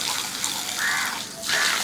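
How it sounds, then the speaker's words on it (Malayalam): Water pours and gushes in two close bursts with a brief lull between them, splashing loudly nearby as a temple elephant in Kerala is bathed. "ആനക്കോട്ടയിലെത്തിയപ്പോൾ മാവേലിക്കര കുട്ടിക്കൃഷ്ണനെ നനയ്ക്കുകയായിരുന്നു"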